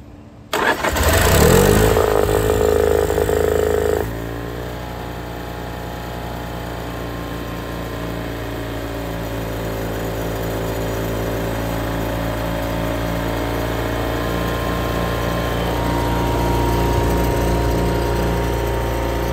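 A Honda EV6010 portable generator engine sputters and catches, then settles into a steady, loud mechanical drone that runs continuously nearby with no voices.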